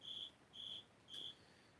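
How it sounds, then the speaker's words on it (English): A cricket in a basement gives three evenly spaced, high, faint chirps against quiet room tone, with no voices. "That cricket's still here. He's down in the basement. I can hear him."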